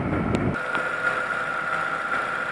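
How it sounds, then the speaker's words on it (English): A 2004 Nissan Sentra engine idles steadily with the air conditioning running, a constant mid-pitched hum after a brief louder burst at the start, close by with no talking. "And let your engine run."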